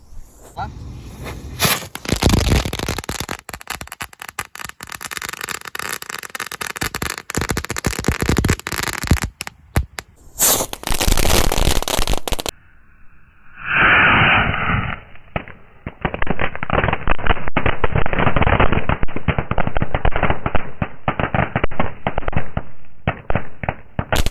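Rapid, dense crackling bursts of firecrackers go off in long rattling volleys, loud and close, with short pauses between strings.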